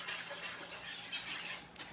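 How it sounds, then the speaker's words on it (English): Garlic powder and smoked paprika are whisked into a bubbling paste in a pan for creamy chicken and bacon tortellini, a quick close scraping whisk over a soft bubbling hiss. "Just whisk this in. We want it to form a paste, and then let it bubble for probably a minute."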